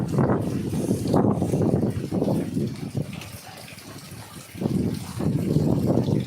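Steady rain pours and gushes outdoors on a rainy morning, a broad, rushing wash of water that swells and dips in loudness across the clip, with faint voices murmuring underneath.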